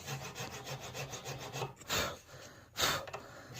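A file rasps in quick, steady strokes through the nut slot of an acoustic guitar, enlarging it, with two louder, longer strokes near the end; close and fairly quiet.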